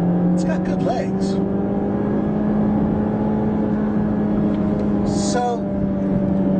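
A 2014 Mazda3 with 155 horsepower accelerates hard from a standstill toward 60 mph, its engine a steady loud drone rising gradually in pitch, heard from inside the car with brief voices over it.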